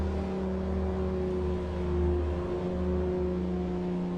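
Race car engines idle and burble together on the starting grid at Kyalami in Automobilista 2, a steady low droning hum with layered engine tones and a slight swell midway.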